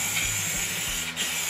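A spray paint can hisses continuously over a wood stove being restored, a close, steady, broadband spray with slight rattling texture and a brief dip near the end, with no talk.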